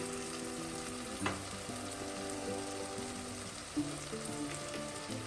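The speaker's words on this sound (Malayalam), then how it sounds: "ഇത്രയും ചേർത്ത് നന്നായി നമുക്കൊന്ന് വഴറ്റാം." Kashmiri chili powder and other chili powder being sautéed in a pan for a Kerala-style fish curry, a soft continuous sizzle with a couple of brief stirring clicks, no talk.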